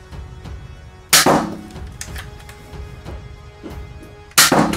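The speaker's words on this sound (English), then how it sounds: "Top barrel first, then the bottom barrel, closing the fin, priming and firing." A Nerf Doublestrike blaster loaded with X-Shot foam darts fires two loud, sharp pops a few seconds apart, with softer clicks and rattles of handling and priming in between.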